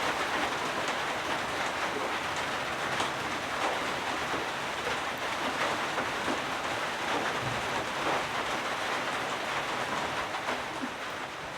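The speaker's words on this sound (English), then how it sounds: "listen to the rain" Steady rain falls at night on the roof and surroundings of a rustic old hut, a dense continuous hiss with scattered drips, even and unbroken throughout with no voices.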